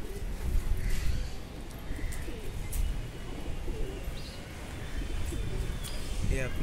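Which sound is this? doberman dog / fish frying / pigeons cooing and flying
pigeons cooing and flying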